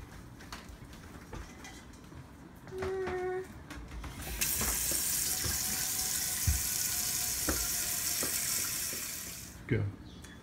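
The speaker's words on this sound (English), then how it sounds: "now we are going to fill this pot, isn't it pretty, with water." Water gushes from a tap into a pot for several seconds, a steady loud rush, with clinks and handling noises before and after.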